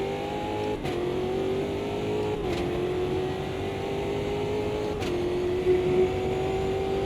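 A race car engine in a racing video game holds a steady high drone down a straightaway, its pitch dipping briefly at a few gear shifts, loud and continuous with no talk.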